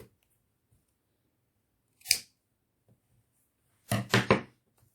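Scissors snip the ends of paper yarn in a quiet room: one crisp cut, then a short pause, then a quick double snip close by.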